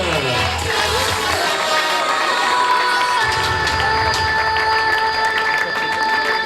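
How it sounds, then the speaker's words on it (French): A crowd cheers, shouts and applauds loudly and steadily at the podium of a military championship triathlon awards ceremony. Children's voices are among the cheers. "faites un tonnerre d'applaudissements, le podium championnat de France militaire"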